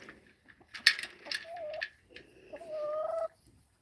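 Soft clucking and short calls from nearby fowl, a few scattered bursts with quiet gaps between them, fairly faint.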